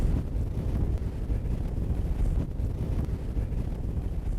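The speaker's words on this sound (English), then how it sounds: "The winds tonight were 80 to 100 miles per hour with gusts well over that" Strong wind roars steadily on the summit of Mount Washington in December, blowing at 80 to 100 miles per hour with heavier gusts, a dense, continuous low buffeting that batters the microphone with no voices.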